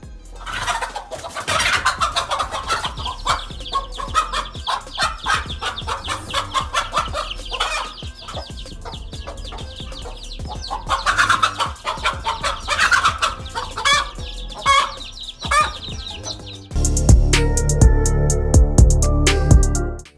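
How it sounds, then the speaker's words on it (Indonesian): A mother hen clucks loudly and repeatedly while fiercely attacking a cobra, her agitated calls rising and falling throughout, followed by a louder harsh stretch at the end. "memperlihatkan bagaimana keganasan seekor induk ayam yang menyerang ular kobra tanpa rasa takut demi melindungi anak-anaknya"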